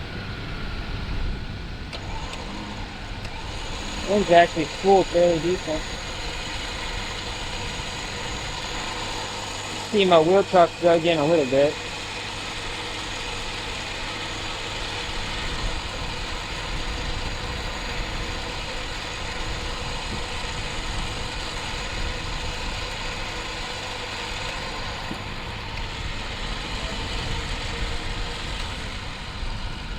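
A Ford Bronco's engine idles low and steady while the truck sits buried axle-deep in mud and water, someone talking over it and a couple of short clanks breaking in.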